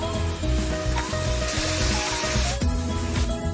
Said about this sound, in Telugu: ఆ చికెన్ ఆయిల్ లో ఫ్రై అయ్యే వరకు వెయిట్ చేయాలి.